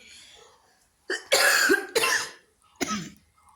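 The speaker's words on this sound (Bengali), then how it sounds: "এত খুসখুস কাশি হয়েছে" A person with a tickly cold cough lets out several harsh, close coughs in quick bursts after a quiet start, then a final shorter cough.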